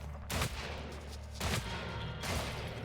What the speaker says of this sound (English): I just shot the TNT back, which is one of the most satisfying things in this game is shooting TNT as it leaves somebody's hand